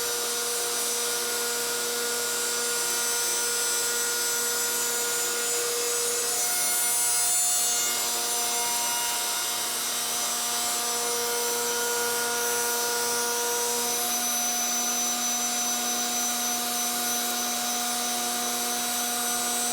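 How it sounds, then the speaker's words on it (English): Router table fitted with a slot cutter cutting grooves in short pieces of chainsaw-milled ash, a loud, steady high-pitched whine with a sustained cutting rasp for about twenty seconds and no speech. "To cut the grooves on the shorter pieces, I'm using a slot cutter in the router table."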